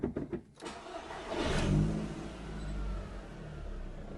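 A Seat Cupra R with its engine management and traction lights on cranks briefly, then its engine catches and rises to a loud swell before settling into a steady idle, close by.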